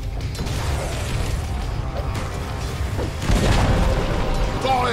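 A Dota 2 middle tower collapses with a deep boom and crunching, grinding debris rising from about three seconds in, over a steady din of battle.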